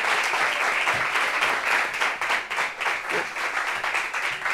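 An audience applauds together in a single sustained round of dense clapping, steady and fairly close throughout with no voices rising above it.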